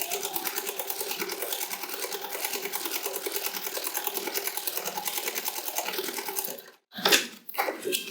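A sewing machine stitches the seam of a fabric safety mitt with a fast, steady mechanical whir, close and continuous, then stops abruptly near the end, followed by a few clicks and handling sounds.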